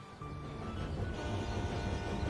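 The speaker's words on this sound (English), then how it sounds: "that's my train going past with all its wonderful cars on it" A train with a long string of cars rolls past in the video game Tiny Rails, a steady, continuous rumble with faint rail clatter that holds at an even level throughout.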